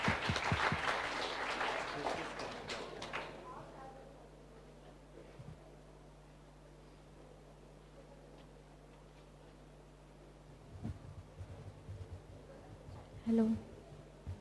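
Applause from an audience for student presenters at a live school presentation, loud at first and dying away within a few seconds, leaving a quiet hall with faint room noise and a few soft knocks.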